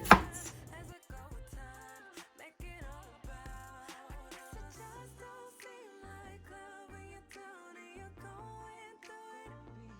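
A knife chops food, likely kale, on a cutting board in a rapid run of sharp, dry taps that start with one loud strike, then continue steadily and close, with no talking.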